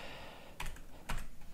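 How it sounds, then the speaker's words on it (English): A number being typed on an iPad keyboard, heard as a couple of brief clusters of soft, close taps in a quiet room. "and then I'll type the number"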